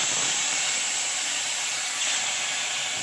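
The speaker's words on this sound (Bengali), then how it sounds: "প্রথমেই আমি তেল দিয়েছি কড়াই, এবার তেলটা গরমও হয়ে গেছে, মাছগুলো এক এক করে ভেজে নেব।" Snakehead fish frying in hot oil in a wok, giving a loud, continuous hissing sizzle that stays even for the whole stretch, with no talking.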